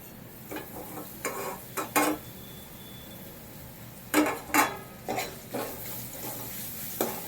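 Carrots fry in a pan while being stirred, giving a soft background sizzle broken by several short, sharp scrapes and clinks of a utensil against the pan.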